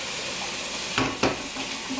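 Potatoes cooking in a pan for a potato pie holiday dinner: a soft steady sizzle with two sharp stirring scrapes partway through and faint clinks after.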